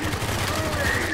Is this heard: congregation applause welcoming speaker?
no